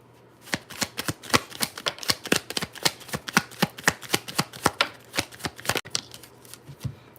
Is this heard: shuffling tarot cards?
yes